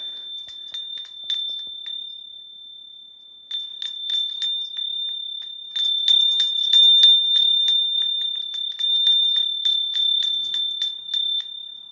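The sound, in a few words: small bell from Arcosanti ringing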